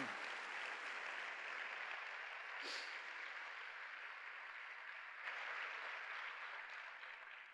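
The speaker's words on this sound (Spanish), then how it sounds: "Dale fuerte el aplauso al Señor." Congregation applauding in a church, a steady wash of clapping lasting throughout at moderate level, with a brief brighter accent partway through and no clear speech over it.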